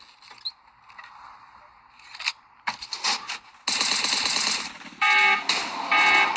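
A building alarm sounds in a zombie video game, a loud harsh electronic ringing that kicks in partway through and keeps blaring in bursts over rattling game noise.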